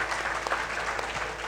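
Audience at a celebratory product event clapping together, a continuous, even wash of applause with no break, fairly close and bright.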